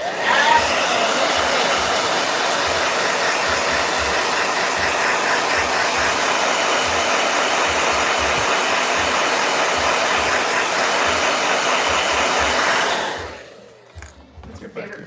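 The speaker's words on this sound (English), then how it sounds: "Blow dryer" A blow dryer runs steadily and loudly with a dense, even whoosh for about thirteen seconds, then cuts off, leaving brief quiet room noise.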